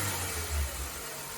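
A Ford Bantam Rocam engine revs briefly after a spark plug replacement, a low throaty rumble swelling and settling back, heard faintly and alone.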